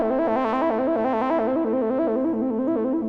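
Sustained synth-like music with a wavering, chorused shimmer, heavily processed with a reverb plugin; continuous and loud, no voices.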